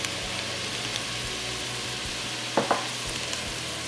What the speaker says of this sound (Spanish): Debo mezclar la harina hasta que se tueste para que le dé un mejor sabor